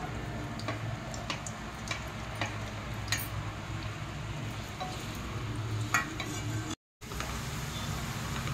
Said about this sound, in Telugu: నూనె వేడి కాగానే ఉల్లిగడ్డ వేసుకోవాలి.